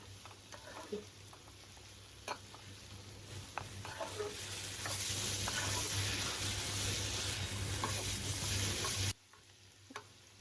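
Garlic and green chillies fry in a pan over a raised flame for a spicy onion bharta, a close crackling sizzle that swells louder midway, punctuated by scraping stirs and clicks before cutting off abruptly near the end.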